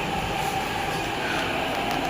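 A train rolls past steadily and loudly throughout, a continuous dense rumble and rush of rail noise with a faint wheel squeal on top, with no talking.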